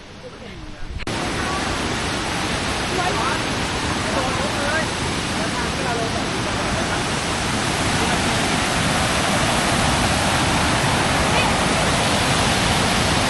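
A forest waterfall roars steadily and loudly after a brief quieter opening second, a dense, continuous rush that stays constant throughout.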